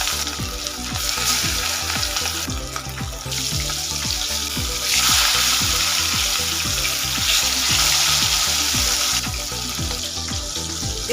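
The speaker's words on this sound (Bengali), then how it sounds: "এর মধ্যে মাছগুলো ভেজে নেব।" Rohu fish pieces frying in hot mustard oil, a loud continuous close sizzle with rapid crackling spatter that swells louder midway.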